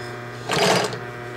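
A Singer 20U53 industrial sewing machine runs a short stitching burst lasting about half a second, a close, buzzing whir over a faint steady motor hum.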